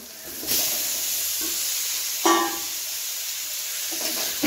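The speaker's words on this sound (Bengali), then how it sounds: "আলুগুলো একটু ভালো করে কষিয়ে নিচ্ছি।" Boiled potatoes being sautéed with turmeric in a hot pan, giving a steady close sizzle with a few short bursts of stirring and scraping.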